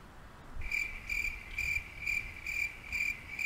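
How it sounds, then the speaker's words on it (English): Crickets chirp in regular, evenly spaced pulses of a high, bright trill, steady and fairly close against a quiet background with no talk. "Crickets."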